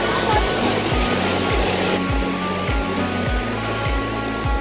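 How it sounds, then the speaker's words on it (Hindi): Rushing water of the Düden waterfall in Antalya, Turkey, a loud, steady broadband roar close by with a regular low mechanical thumping running underneath. "ये वाटरफॉल का पानी"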